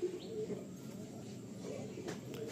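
A breeder pair of pigeons, one female and one male, cooing softly in low, wavering murmurs over a steady background hum, close by and continuous.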